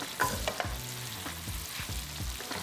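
Mushrooms sizzle in a hot pan and are stirred, with repeated scraping strokes of a utensil across the pan over a continuous frying crackle, close and moderately quiet.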